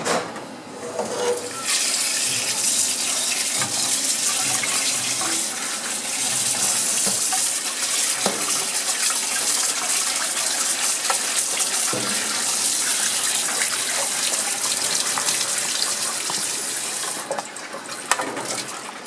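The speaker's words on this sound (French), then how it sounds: "tu vas la rincer un peu pour enlever toutes les petites saletés, les impuretés qui peuvent rester" Kitchen tap water runs steadily while veal is rinsed for a blanquette, a continuous close gushing splash with small knocks of handling and no talk.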